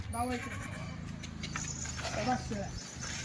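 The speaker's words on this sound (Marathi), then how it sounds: "शेळी बघा" A goat bleats a few times in short wavering calls amid low background rumble, with people talking faintly.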